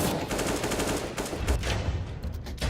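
Rapid gunfire rattles through a competitive Counter-Strike match between Nexus and LDLC, a dense string of loud, close shots with brief cracks and no talking.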